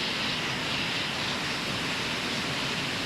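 A steady, loud jet engine roar from an Eclipse 550 in X-Plane 11 fills the cabin as an unbroken broadband rush, with no talk over it.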